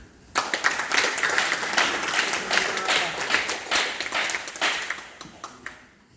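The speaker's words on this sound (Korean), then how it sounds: "우리 인사들 전 박수 한번 하겠습니다" Attendees at a monthly meeting of the Uijeongbu Christian association clap together indoors, a lively burst of many hands with sharp individual claps that builds, holds for several seconds, then tapers into scattered final claps.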